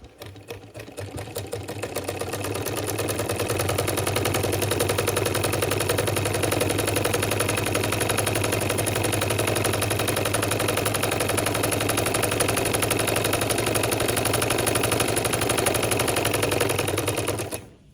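A household sewing machine fitted with a size 11 needle runs steadily for about fifteen seconds, a loud, fast, even mechanical whir and clatter that spins up at the start and stops at the end.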